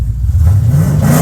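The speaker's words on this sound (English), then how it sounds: "Give it a rev." A car engine being revved in preparation for Summernats, a loud, close rumble swelling briefly in pitch over just over a second, with no talk.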